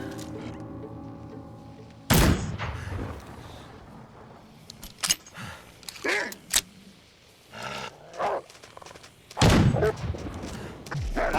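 Gunshots fired in The Long Dark video game, two loud sharp blasts several seconds apart, each with a booming tail, separated by quieter in-game thumps and rustling, no talk.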